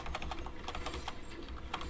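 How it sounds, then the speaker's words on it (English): Computer keyboard clicking during a Fortnite gaming session, a rapid irregular patter of close key presses over low background noise, with no one talking. "having to listen to the clicks on the keyboard"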